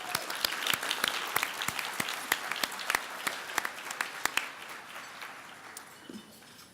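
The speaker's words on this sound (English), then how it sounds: "let's give another round of applause to all our Excellence Award winners" An audience at the WaterSense EPA awards luncheon claps for its Excellence Award winners, a dense round of applause with a few sharp individual claps that fades toward the end.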